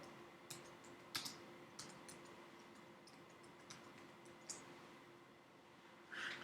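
Quiet, sparse keystrokes tap on a computer keyboard, a handful of separate clicks spaced irregularly over a low room hiss.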